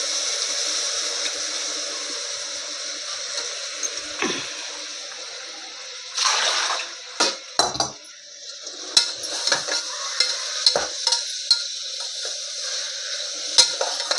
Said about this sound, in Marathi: स्लो गॅसवरती सगळं मसाले भाजून घ्यायचे